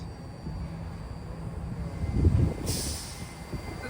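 A BART Orange Line train heading to Richmond approaches at a distance, a low rumble swelling to a peak midway with a brief high hiss or squeal, then easing off.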